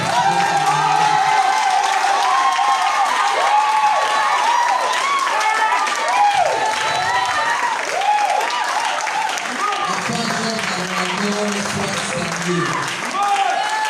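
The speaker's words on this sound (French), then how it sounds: "Je veux qu'on acclame le Seigneur pour ça." A church congregation at a Pentecost service applauds and cheers for the Lord: a loud, steady wash of clapping and voices that continues throughout, with calls rising above it.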